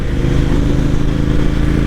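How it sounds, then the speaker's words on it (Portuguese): A Triumph Bonneville T120 Black 1200cc motorcycle engine drones loudly and steadily at highway cruising speed, close up, with a deep rumbling hum and continuous road noise. "Como que esse motor fala alto, né?"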